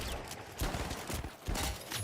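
Dense, rapid gunfire from a first-person shooter game, a near-continuous crackle of overlapping shots with a few louder bursts, heard over a busy game background.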